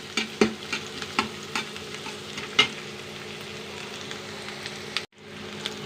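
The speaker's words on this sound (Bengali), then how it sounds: "পেঁয়াজটা লাল লাল করে ভেজে নিব" Onions fry in hot oil while a spoon stirs them, giving a constant crackling sizzle broken by sharp metallic clinks and scrapes against the pan, before the sound cuts off abruptly near the end.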